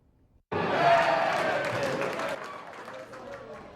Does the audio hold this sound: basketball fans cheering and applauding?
yes